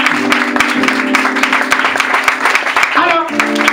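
A church congregation claps and cheers for Jesus during a prophet's sermon, with brisk applause running beneath a preacher's speech.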